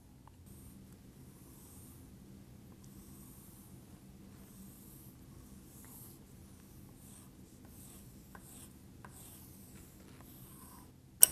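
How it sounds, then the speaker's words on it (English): A pen draws electric field lines on Morris & Lee conductive paper, producing a faint, continuous scratchy scribble in a quiet room, ending in a brief louder knock, with no talking. "the last part of this assignment is to draw your E-field lines"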